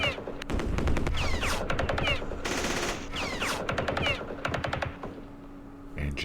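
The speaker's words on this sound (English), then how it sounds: "Machine gun." Machine gun fire in the Vietnam War strategy game Campaign Series Vietnam, set at Dien Bien Phu: repeated rapid bursts of loud automatic fire in quick succession, with brief pauses between volleys.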